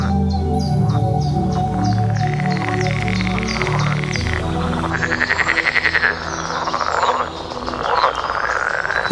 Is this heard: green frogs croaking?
yes